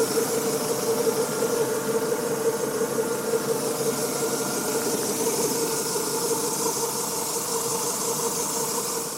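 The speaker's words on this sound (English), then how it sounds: "engine runs really nice." A car engine idles steadily with a constant mechanical hum and a high whine, close by and even throughout.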